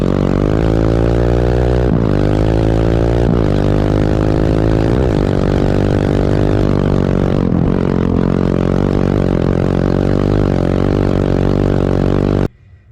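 A motorcycle fitted with a new engine revving hard and accelerating, loud and close, its pitch climbing and dropping through several gear pulls before cutting off abruptly at the end; nobody speaks.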